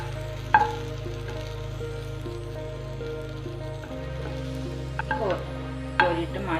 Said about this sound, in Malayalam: 2 സൈഡും ഒന്ന് ഫ്രൈ ആക്കിയെടുക്കാം